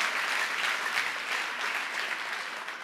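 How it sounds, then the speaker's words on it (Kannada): An audience at Singara Deepotsava applauds in a steady, fairly quiet spatter of many hands clapping together. "ಇನ್ನೊಂದು ಸಾರಿ ಗಟ್ಟಿಯಾಗಿ ಚಪ್ಪಾಳೆ ತಟ್ಟಿ"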